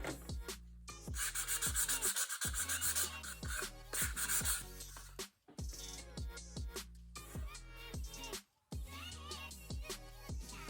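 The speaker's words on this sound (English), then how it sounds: "here I am just sanding down the coasters that I made too" Handmade clay coasters being sanded by hand, rhythmic close scraping strokes repeating steadily with brief pauses, and no talk.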